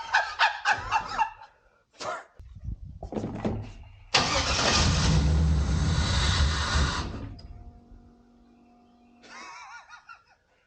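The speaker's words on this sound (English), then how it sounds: "you hear fuel pump cutting on" A car engine cranks and catches after a few short attempts and a brief whir from the fuel pump, running loudly for a few seconds before settling into a quieter hum; a short laugh is heard near the start.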